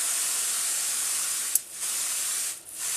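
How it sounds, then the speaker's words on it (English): A continuous airy hiss of a water mister spraying the soil surface of potted orchid bulbs, broken by two brief pauses, steady and close with no voices. "I have a misting system, or a mister here. I'm just going to spray the soil surface."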